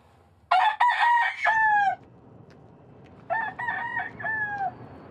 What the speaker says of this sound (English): Damn chicken.